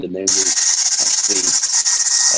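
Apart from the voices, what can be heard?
hairdryer used to stick foam dressing on horse's wound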